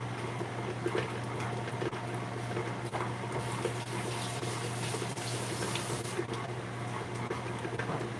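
A kitchen tap runs steadily while someone washes shortening off their hands after making coffee cake cookies, a constant close hiss of flowing water into the sink with no speech.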